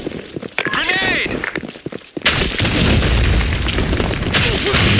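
A grenade detonates in the first-person shooter Blackshot, a loud broadband blast at about two seconds followed by sustained crackling debris and game noise, with game effects and chatter before it.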